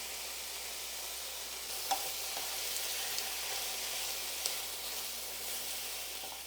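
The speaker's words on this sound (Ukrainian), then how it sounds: "Ось просто на суху сковорідку викладаю курку." Chicken breast cooking in a dry frying pan, a soft steady hiss of juices sizzling with a few faint clicks, quiet and continuous with no talking.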